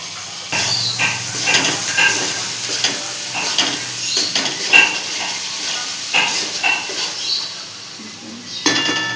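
Onions frying in oil with turmeric and garlic, a steady sizzle under repeated stirring scrapes and occasional clinks of a utensil against the pan, close and fairly loud throughout.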